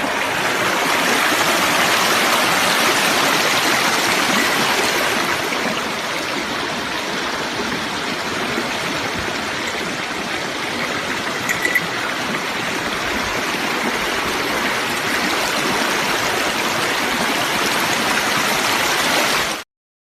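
A creek flows around a bit of land, its water rushing and gurgling in a loud, steady, close wash that runs unbroken throughout with no speech.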